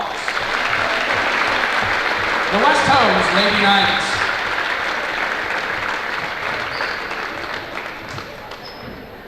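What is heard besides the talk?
basketball crowd applauding alumni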